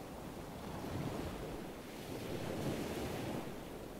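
Steady ocean surf washes in and out under constant wind buffeting the microphone, a broad continuous roar that swells gently in a slow rhythm with no voices.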